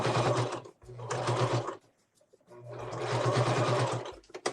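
A sewing machine stitches an all-black trapper hat in two loud, close bursts of rapid mechanical whirring separated by a short pause.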